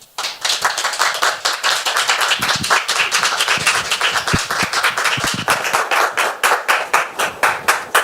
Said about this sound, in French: Et je voudrais qu'on la reçoive, s'il vous plaît, sous vos applaudissements.